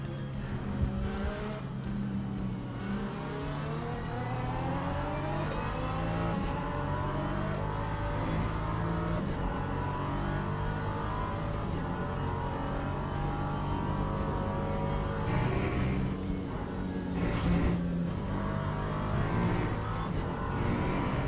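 An LMP3 prototype race car in Le Mans Ultimate drones with a loud engine note that shifts pitch as it accelerates and changes gear. Occasional tyre squeal cuts through over roughly twenty seconds.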